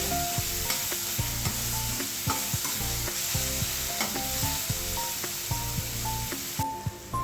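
Freshly ground masala sautéing in a pan for Mumbai vada pav potato filling, a continuous hiss and sizzle with intermittent stirring scrapes beneath steady background music.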